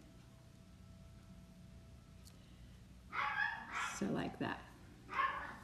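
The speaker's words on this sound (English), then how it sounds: "Your dog is barking now." A dog barks indoors in several sharp bursts, fairly near, between and over a person talking quietly while working on a piping bag in a kitchen.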